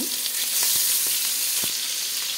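Prawns frying in hot oil for a Bengali malai curry, a continuous bright sizzle with small crackles and pops, close up and steady, with no talking.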